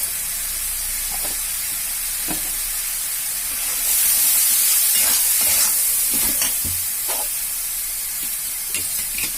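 Tomato and chili powder frying with a rohu fish head, a steady sizzling hiss throughout that swells louder midway, broken by scattered spoon taps and stirring scrapes.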